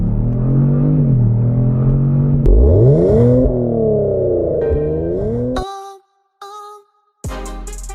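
A Kia Stinger GT1 accelerates hard in launch control, its engine loud and close, pitch climbing and dipping through shifts before cutting off abruptly.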